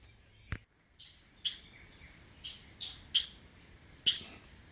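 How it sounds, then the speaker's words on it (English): Young birds recently hatched in a carport give short, high chirps in a quick irregular series, close and clear against a quiet background, with one sharp knock near the start. "One of the birds that's been hatched in my carport here has come out and is visiting me."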